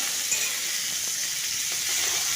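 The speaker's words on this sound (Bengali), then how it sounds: "ওই তেলের মধ্যে আমি সেদ্ধ করা এঁচোড়টা দিয়ে দিলাম।" Boiled raw jackfruit sizzles steadily in hot oil in a pan, an even hiss that holds without pause and with no voices.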